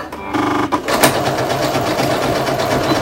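Sewing machine stitching a small zigzag stitch, a close, fast mechanical rattle that starts after a brief pause and runs continuously.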